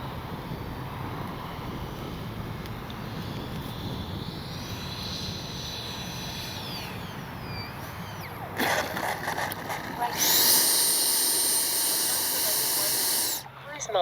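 Flyfans Baltic Bees 64mm L-39 RC jet model with flaps down, a steady ducted-fan whine and rushing hiss running throughout, growing louder and brighter near the end as it passes close.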